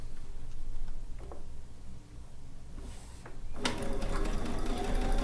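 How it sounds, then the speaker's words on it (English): A domestic sewing machine runs continuously while stitching a quilt top, its motor hum and rapid needle rattle growing louder and brighter toward the end, with a few faint clicks earlier and no talking. "I'm just going to sew down the other side"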